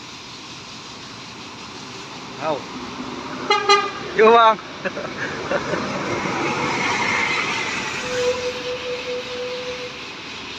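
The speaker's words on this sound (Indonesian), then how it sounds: "Yang selanjutnya kawan, ada bus 4 star" A four-star bus passes on a badly damaged road in Aceh, sounding a loud musical horn in several bursts before its engine roar sweeps by, with people speaking briefly nearby.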